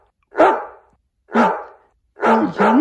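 A dog barks loudly and close by, with three sharp barks in uneven rhythm, the last two coming in quick succession, with no other sound around them.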